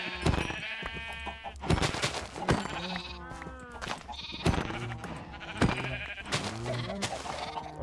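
Sheep bleat repeatedly in the Minecraft video game, with wavering, harmonic cries close up. Sharp hit sounds break in now and then.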